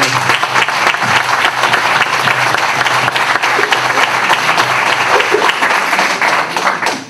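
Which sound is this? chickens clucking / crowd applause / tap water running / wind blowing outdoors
crowd applause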